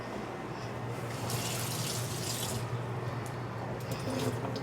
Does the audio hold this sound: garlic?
no